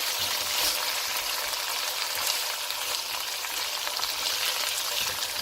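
Minced meat (keema) sizzles steadily in a pan for bhuna keema, a dense continuous frying hiss with faint scrapes of stirring, close and even throughout.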